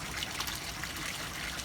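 A steady, gentle trickle of water runs into a koi pond fed through a DIY bog filtration system, a continuous close-up splashing with no break and no voices.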